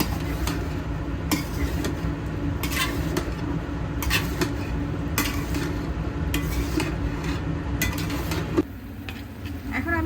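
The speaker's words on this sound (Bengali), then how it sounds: "ডালটা বাগার দিয়ে দিচ্ছি ডালটা হয়ে গিয়েছে ডালটা আমি বাগার দিয়ে দিয়েছি" Dal being tempered with turmeric, chili, cumin and coriander powders in hot oil on an electric stove, a steady sizzle under repeated clinks and scrapes of a spoon stirring in a metal pot.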